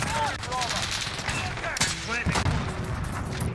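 Rapid MP5 submachine gun fire in Modern Warfare, a steady automatic rattle running throughout at moderate loudness, with someone talking over it.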